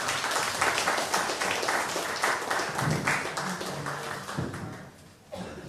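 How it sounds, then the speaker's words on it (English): Audience applause fills the hall after an opening plenary lecture at a conference, a dense steady patter of many hands that fades toward the end, with a brief bit of talk at the close. "Let's give this another round of applause."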